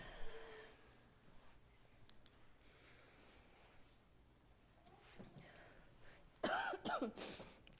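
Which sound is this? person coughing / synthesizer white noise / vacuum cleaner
person coughing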